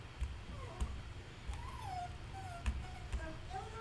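A dog whimpers in a series of thin, rising and falling whines. The sound is faint and comes from an indoor craft session, with soft knocks and a low room rumble underneath.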